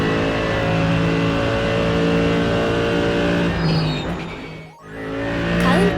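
A race car engine drones loudly and steadily in the iRacing sim, driven with a MOZA R16 wheel base. Harmonic tones shift as revs change, then the engine cuts out briefly near the end, with tire squeal, before revving back up.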